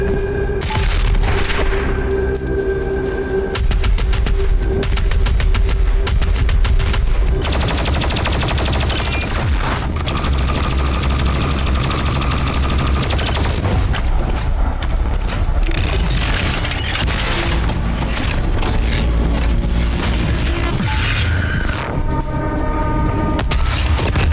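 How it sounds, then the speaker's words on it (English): Continuous loud Doom Eternal gunfire and explosions, heavy booms and rapid bursts layered over a dense, roaring background mix. "you get an over-the-top arsenal of always equipped weapons to cycle through"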